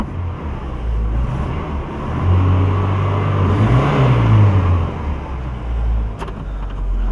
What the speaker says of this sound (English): The engine seems to run pretty sweet.